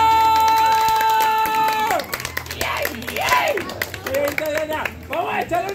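An audience at a children's party with a clown breaks into quick, scattered applause as music cuts off, and voices call out over the clapping.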